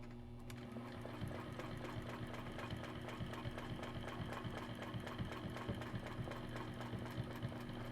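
A sewing machine with a ruler foot quilts along the edge of a kite shape, giving a quiet, even, rapid mechanical stitching rhythm that continues steadily throughout.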